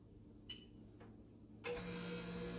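A freeze dryer switches on to begin its 15-minute cooling cycle before a bread run: after a couple of faint clicks, a steady broadband whir and hum starts abruptly and continues evenly, close by with no talk.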